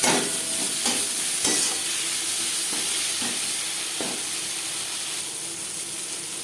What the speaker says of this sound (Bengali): বেশ ভালো করে মিক্স করে দেবো